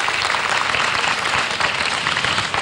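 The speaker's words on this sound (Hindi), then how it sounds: "ताली एक बार बजा देते हैं" Audience applause at a Diwali celebration with orphaned children, a loud, dense, sustained burst of clapping from a crowd with no talk over it.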